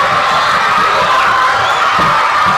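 Supporters of qualifying schools, including children, cheer and shout together at a televised competition, a loud, continuous crowd roar with whoops rising over it.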